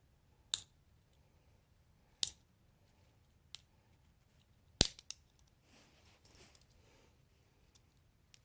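Sharp isolated plastic snaps and clicks as a plastic plate holding a bead spindle is pried up with a small screwdriver, several sudden cracks spaced apart over quiet background, with faint fiddling noises between.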